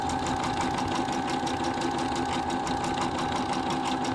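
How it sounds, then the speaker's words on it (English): A Brother Skitch PP1 embroidery machine stitches steadily at a fast, even rhythm, with a constant mechanical whir and rapid ticking that never lets up. "The machine is not that loud, no more than a sewing machine."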